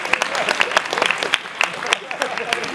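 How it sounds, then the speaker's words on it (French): An audience at an awards evening in Lunel claps for young bullfighting club members, a brief burst of brisk, uneven applause from a modest indoor crowd. "Vous pouvez les applaudir, ils s'applaudissent eux-mêmes."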